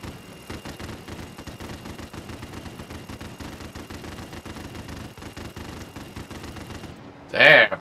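Sustained automatic gunfire from players shooting at an aircraft in Call of Duty Warzone Pacific, a dense continuous rattle of rapid shots that ends in a sudden loud blast of the aircraft blowing up.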